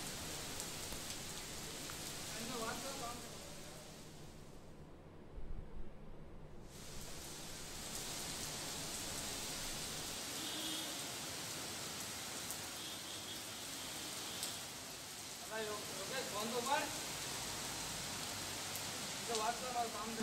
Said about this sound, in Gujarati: ત્યારબાદ ધોધમાર વરસાદ વરસ્યો